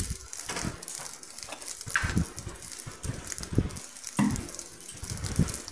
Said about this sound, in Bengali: কাজেই আমি এইসব দিয়ে কাঁচা লঙ্কা ফোড়ন দিয়ে আমি ভেজে নিচ্ছি চালটাকে